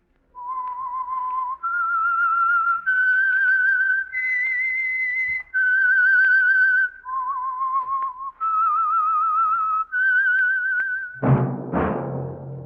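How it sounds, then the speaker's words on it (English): Whistled theme tune opening the Signal Oil radio mystery program, a clear solo melody of sustained, gliding notes in several phrases, ending with a sudden burst of orchestral sound. "That whistle is your signal for the Signal Oil Program, The Whistler."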